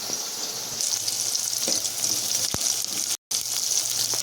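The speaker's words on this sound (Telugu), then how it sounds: "ఆనియన్ మిర్చి వేసుకున్న తర్వాత ఇంకొంచెం ఫ్రై అయిన తర్వాత తోటకూర కట్ చేసుకొని ఇందులో వేసుకోవాలి" Onions and green chillies sizzle steadily in a pan, with amaranth leaves to be added, giving loud, continuous frying hiss and a couple of faint stirring knocks.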